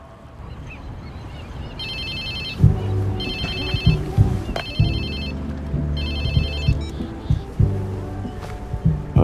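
A phone rings in the video game Watch Dogs 2, several repeated electronic trill bursts over a low engine-like rumble, loud and close.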